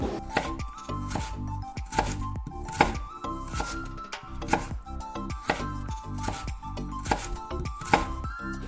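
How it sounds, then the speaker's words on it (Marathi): A knife chops through a block of jaggery on a board in a home kitchen, giving crisp, evenly spaced cutting knocks in a steady rhythm, close and fairly quiet, with no talking. "त्यासाठी मी ते पहिल्यांदा गूळ कट करून घेते"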